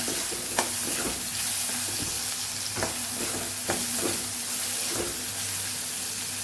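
Tomatoes sauté in a pan for a Navratri fasting potato dish with a constant loud sizzle, broken by a regular rhythm of spoon scrapes as the mixture is stirred.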